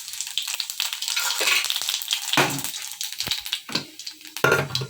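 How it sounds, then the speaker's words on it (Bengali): Radhuni seeds sizzle and crackle in hot oil in a wok as a tempering for a lentil and ash gourd dish, with loud bursts of hissing that rise and fade. "এখানে যে এখন কড়াইতে তেল দিয়েছি, তোমার মুসুরির ডাল দিয়ে চাল কুমড়ো দিয়ে রান্না করব, সেই জন্য তো রাঁধুনি ফোড়ন দিয়ে দিচ্ছি আমি।"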